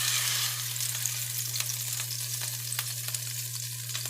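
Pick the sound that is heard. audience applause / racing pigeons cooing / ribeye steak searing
ribeye steak searing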